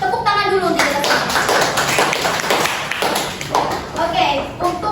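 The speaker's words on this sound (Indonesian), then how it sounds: "Tepuk tangan dulu untuk kita semua." Secondary school students clapping in a classroom during a lesson, brisk hand claps mixed with children's voices and loud talking, uneven and close.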